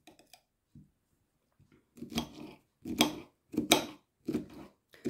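A knife slices cactus fruit in several crisp cutting strokes in a steady rhythm, close up, each a short crunchy slice, with a few faint taps before them and no talking.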